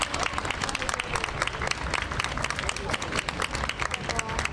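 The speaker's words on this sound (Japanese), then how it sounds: "今一度大きな拍手をお送りください。" Audience applause at an outdoor festival concert by a Kyoto police band, steady dense clapping from a sizable crowd, close and continuous throughout.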